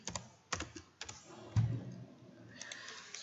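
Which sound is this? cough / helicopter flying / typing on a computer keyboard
typing on a computer keyboard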